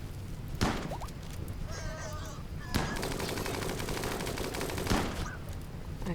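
Colonists firing guns in the Rimworld video game: bursts of rapid gunfire with sharp cracks at intervals over a steady noisy background, a few bleating, animal-like cries mixed in, no talking.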